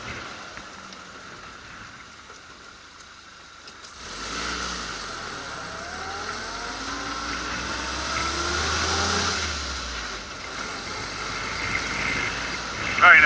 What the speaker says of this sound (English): See, the gear change on the Jeep now is really nice.